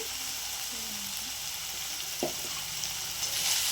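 Spiced masala paste with chilli powder and turmeric frying in a pan for a fish curry, a steady low sizzle throughout with a brief scrape of stirring near the end.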